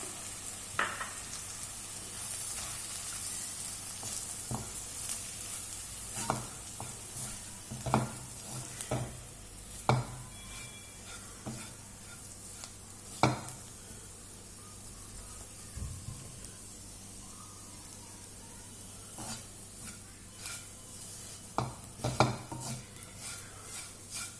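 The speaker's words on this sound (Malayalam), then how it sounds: "മിളക് പൊടി മല്ലിപ്പൊടി കറി മസാല കറി ഗരം മസാലയില്ലേ അത് ഇതിട്ടിട്ട് ഒന്ന് റോസ്റ്റ് ചെയ്യാം" Chicken masala roasting in a pan with chili powder, coriander powder and garam masala, a low continuous sizzle punctuated by sharp clanks and scrapes of a spoon against the pot at irregular intervals, heard alone.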